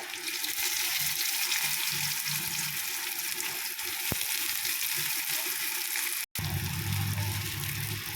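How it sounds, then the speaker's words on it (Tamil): Onions fry with garlic in a pan, giving a loud, dense, even sizzle that runs throughout, with one sharp tap and a momentary dropout near the end. "முதல்ல பூண்டு கொஞ்சம் வதங்கிட்டோம் அதுக்கப்புறம் வெங்காயம் போட்டுக்கோங்க"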